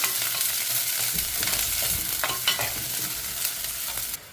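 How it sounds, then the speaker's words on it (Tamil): Chopped onions frying in oil until golden brown in a home kitchen, a dense, steady sizzle close up with soft stirring scrapes running throughout. "வெங்காயம் போட்டுக்கொள்கிறேன் இப்போ ரெண்டு நல்லா கோல்டன் ப்ரௌன் ஆகட்டும் அதெல்லாம் நல்லா வதங்கி வரட்டுக்கும்"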